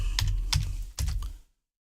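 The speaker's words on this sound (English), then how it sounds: "Sorry if I'm so slow on my typing." Close computer keyboard clatter during a live C&C Generals Zero Hour tournament broadcast, three or four short rattling bursts of keystrokes in an uneven rhythm that stop abruptly, leaving silence.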